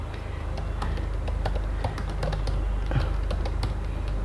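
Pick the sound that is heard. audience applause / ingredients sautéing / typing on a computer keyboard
typing on a computer keyboard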